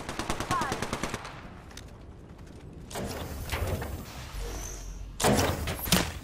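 Video game gunfire: a rapid automatic burst opens, followed by further bursts of shots and mechanical clatter in the game's mix, loud and close.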